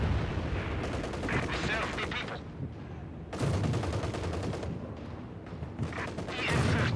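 Company of Heroes 2 battle gunfire, with bursts of machine-gun fire and heavy explosive shots coming in waves separated by quieter lulls, loud and close, with talk partly underneath.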